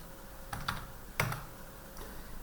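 Computer keyboard keys tapped while entering an amount into accounting software, two quick clusters of close, soft clicks with a gap between them in a quiet room.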